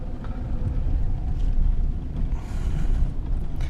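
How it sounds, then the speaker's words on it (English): Strong storm wind batters a car during a windstorm in Colorado Springs, a loud, low, gusting roar that swells and eases with occasional creaks, with no voices. "All you're going to hear is wind."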